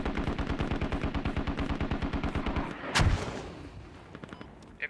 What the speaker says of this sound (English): those mortars are way off